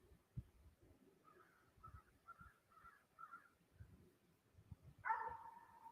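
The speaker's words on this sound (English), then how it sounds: "Oh, it's the dog." A neighbor's dog barks several times at a distance, faint, short calls in a loose rhythm, ending with one louder, closer bark, over quiet outdoor rustling and thumps.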